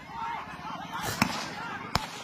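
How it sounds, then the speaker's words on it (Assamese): Blank gunshots fired during a tense eviction clash: two sharp cracks ring out over a noisy crowd and shouting voices. "ফাঁকা গুলি মাৰি আছে"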